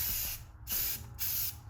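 A can of Rust-Oleum Professional Primer sprays a tumbler in three close, steady hissing bursts separated by short pauses.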